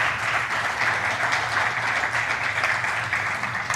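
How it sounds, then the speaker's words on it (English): An audience at a country session with Namibian and other panelists gives a dense, steady round of applause, sustained and even throughout without pause. "I think my panel here deserves a warm round of applause for their time and their insights."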